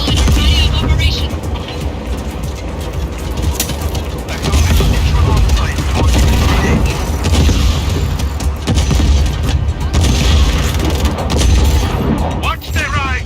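Cannon fire and explosions boom repeatedly in Just Cause 4, a loud continuous barrage of heavy thuds and rumbling blasts with mechanical clatter, under occasional voices talking.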